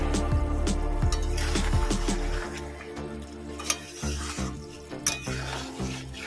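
Sugar being stirred into steamed kochur loti (taro stolons) in a pan: soft scraping and rubbing strokes repeat irregularly, with a few sharper clinks of the spoon against the pot near the end.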